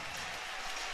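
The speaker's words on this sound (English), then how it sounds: "here's that standing ovation and applause I was talking about" Standing ovation for Trae Young at Madison Square Garden: a dense, steady wash of crowd applause and cheering fills the arena, loud and continuous throughout.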